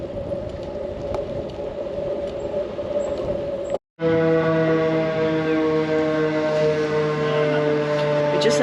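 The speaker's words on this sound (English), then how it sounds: "Just had this really loud siren go off, like really loud." A loud public warning siren in Japan sounds, a steady wailing tone with rising harmonics that cuts off briefly, then swells back strongly and holds, with no talking over it.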